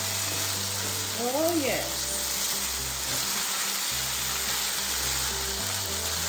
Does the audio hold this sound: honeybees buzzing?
no